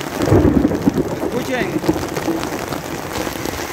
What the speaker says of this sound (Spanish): les estoy enseñando la belleza de la lluvia